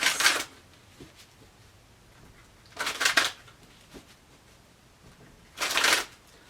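Tarot cards are shuffled three times in brisk riffling bursts, separated by quiet pauses, close and clear with no one talking.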